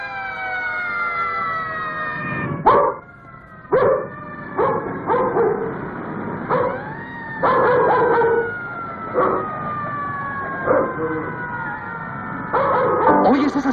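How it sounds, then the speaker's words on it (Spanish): Police, fire and Red Cross emergency sirens wail loudly and continuously in a 1959 Mexican Santa Claus film, overlapping rising and falling tones with sharp interruptions and scattered bursts of other noise. "¿Oyes esas sirenas? Son para ti."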